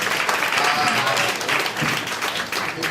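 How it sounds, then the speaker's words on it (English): A crowd applauds, dense continuous clapping filling the whole moment, fairly loud and steady. "Please give a round of applause."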